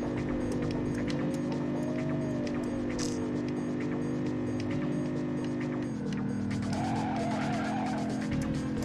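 Car in the video game Driver 2 taking a curve, with a constant loud engine drone and wavering tire squeal through the skid, then a gear change and renewed squeal near the end.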